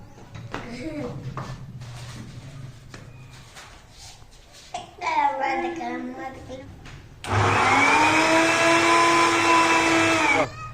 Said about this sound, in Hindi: जग में ग्राइंडर कर रहा हूँ, ग्राइंडर